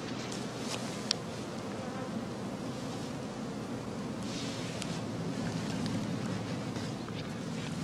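Honey bees swarm around straw skeps in a dense, continuous buzzing drone, with individual bees whining past close by over the steady hum of the mass, outdoors and without talk.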